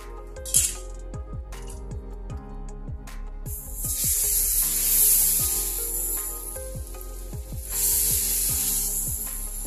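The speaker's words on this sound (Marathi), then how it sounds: "हे पीठ असं हलवून घ्यायचं" A ladle stirs fasting-dosa batter in a bowl with steady, rhythmic scraping knocks, and a broad hiss swells twice in the second half.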